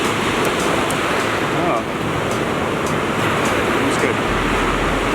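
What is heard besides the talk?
ocean waves rolling on the shore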